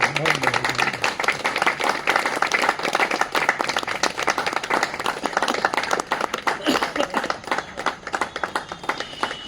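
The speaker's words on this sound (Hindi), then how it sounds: "जोरदार तालियों से हम उन्हें अपने बीच बुलाते हैं" Loud, dense audience applause at a stage play, welcoming its writer-director. Steady, rapid clapping from a large crowd continues without a break for nearly ten seconds.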